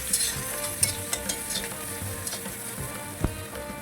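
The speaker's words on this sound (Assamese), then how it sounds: "পিঁয়াজ পিঁয়াজ ভালকৈ ফ্ৰাই হোৱাৰ পিছত" Onions frying in a pan with cumin seeds for a lentil thali: a steady, close sizzle with sharp scrapes and taps from stirring at irregular moments.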